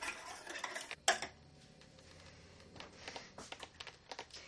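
Eggs being whisked in a pan, a quiet run of rapid light metallic clicks and taps with one sharper clink near the start, faint and close, with no talking.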